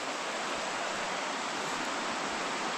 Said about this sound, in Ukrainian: Річка шумить.